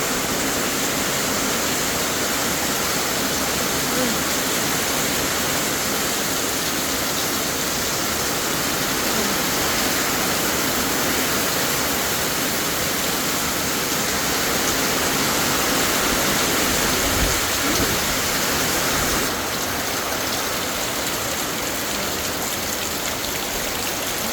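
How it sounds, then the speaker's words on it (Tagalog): Dense, relentless typhoon rain roars evenly and loudly without pause, a thick wash of water pouring down on an outdoor yard with papaya and guava trees. "Sobra na ang ulan."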